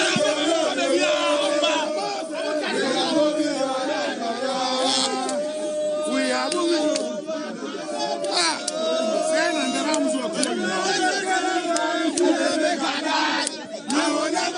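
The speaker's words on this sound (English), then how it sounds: "there they are, engaging in jeering and cheering" A large crowd of youths jeering and cheering in a street near the EOCO office, a dense, loud, continuous roar of shouting voices that stays close and steady throughout.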